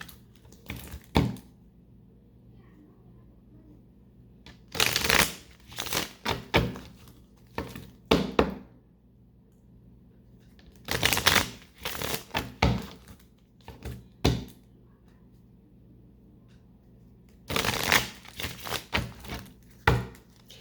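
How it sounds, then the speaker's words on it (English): Tarot cards are shuffled close by in several separate bursts of quick flapping and riffling, with quiet gaps between each round and no voices. "When I was shuffling"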